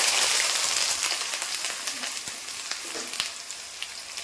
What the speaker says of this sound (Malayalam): അപ്പോൾ നമ്മുടെ എണ്ണ ചൂടായിട്ടുണ്ട്. ഇതിലേക്ക് നമുക്ക് നമ്മുടെ ഈ ഇഞ്ചി അങ്ങ് ഇട്ട് കൊടുക്കാം.